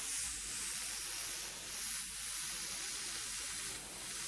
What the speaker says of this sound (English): I'm going to just start to airbrush just around the edge, keeping it nice and clean